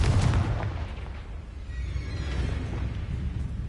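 Confringo fire-blast spell cast in the wizarding game Hogwarts Legacy, a heavy booming burst at the start that fades into a lingering rumbling tail, with no talk over it.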